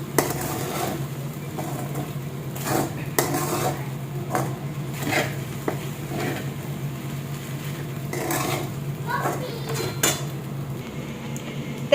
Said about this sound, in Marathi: शेंगदाण्याचं कूट टाकून आता मी ना हे छान असं परतून घेते।